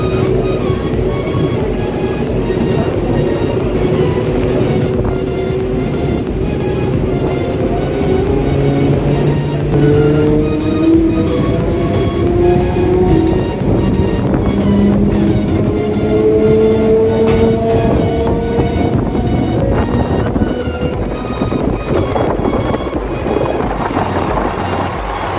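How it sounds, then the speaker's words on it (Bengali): A suburban train rolls slowly around a curve near the Ganges in Kolkata, giving a steady loud rumble and rattle with long squealing wheel tones rising and falling over wind noise. "আমাদের ট্রেন বিকালের এই পড়ন্ত রোদে সুন্দর একটি কার্ভের মধ্যে দিয়ে এগিয়ে চলেছে ধীরে ধীরে"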